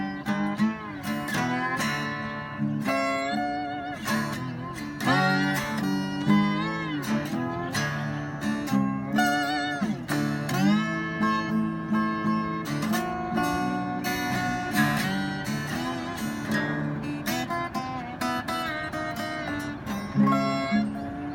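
A Weissenborn lap acoustic guitar plays blues with a slide, gliding notes and strummed chords sounding clearly and up close in a continuous phrase.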